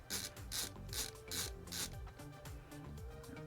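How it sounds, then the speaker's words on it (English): Screws being backed out of the focus motor mount on a Celestron EdgeHD 8 telescope, giving close rasping, ratcheting turns in a repeated rhythm of short strokes. "So you're just going to take these 3 screws out here."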